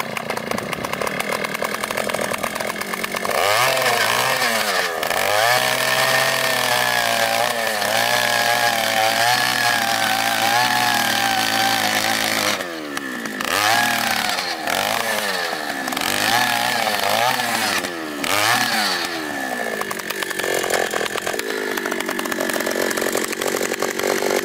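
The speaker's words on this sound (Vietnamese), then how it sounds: "bây giờ thì tôi sẽ test chiếc máy khoan đất này với mũi khoan" A Takyo TK2PS gasoline two-stroke earth auger with a 150mm bit drills into soil, its engine buzzing loudly up close and repeatedly revving up and bogging down under load before easing off.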